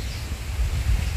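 Wind blows through tree branches outdoors, a brief low gusty rush and buffeting with a faint airy hiss and no voices.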